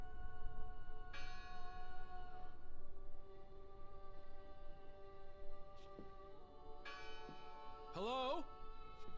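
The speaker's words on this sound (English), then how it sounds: "Listen! The bell! They're still in there!" Church-style bell tolling in a video game set on a Nordic fjord, two clear resonant strikes several seconds apart, each ringing out with a long decaying hum over quiet ambience, followed by a brief high warbling tone.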